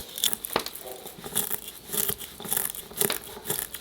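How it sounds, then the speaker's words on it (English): Dry bay leaves being ground for a pork jerky recipe give off irregular crisp crinkling and crunching bursts, close and fairly loud, with brief pauses between the rustling strokes. "Grind 5 bay leaves."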